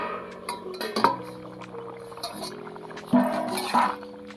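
A large metal plate used as a lid is lifted off a cooking pan, with two ringing metallic clanks and a scraping rattle between them, close and fairly loud.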